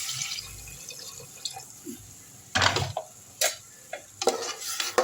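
Water splashes and trickles in short bursts, with drips and clinks of a container in between, close by and fairly quiet.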